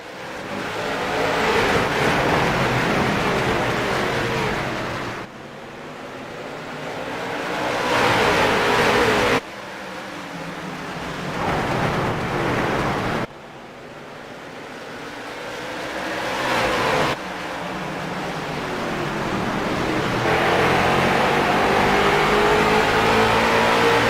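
Late model race cars roar through an esports video game race at the Las Vegas Bullring, engines rising in repeated accelerating sweeps with abrupt cuts between shots, loud and continuous with no talk.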